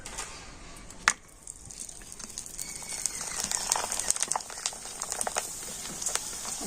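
Homemade flour papad crackers frying in hot oil give a steady fizzing sizzle with scattered sharp pops and crackles, moderately loud and close, running unbroken with no voices.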